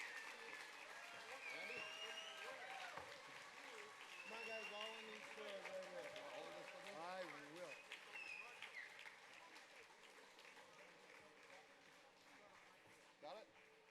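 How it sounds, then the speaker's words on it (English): Applause from the audience at the 2022 South Dakota Rock and Roll Hall of Fame ceremony, sustained crowd clapping running throughout beneath voices and cheering in the hall. "Let's give them a huge round of applause"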